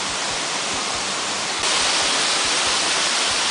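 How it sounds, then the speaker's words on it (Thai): Rushing water at the top of Tad Bong waterfall in Thailand, a steady broadband roar over large boulders, loud and continuous throughout with no voices. "บริเวณด้านบนของน้ำตกตาดบง"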